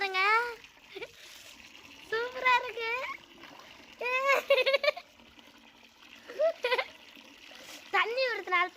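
Running water splashes and trickles over live fish in a steady wash, while someone talks over it in short bursts.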